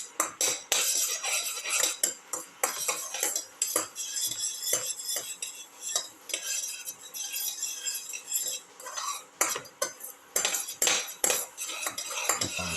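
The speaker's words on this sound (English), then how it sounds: "Thoroughly saute mix." A metal utensil scrapes and clinks continuously against a pan while potatoes and snake gourd are sautéed and stirred, close and busy throughout with no talking.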